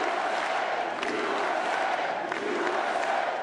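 A crowd at Mar-a-Lago cheers and applauds loudly and continuously as Donald Trump arrives on election night, a dense roar of voices and clapping with no pauses.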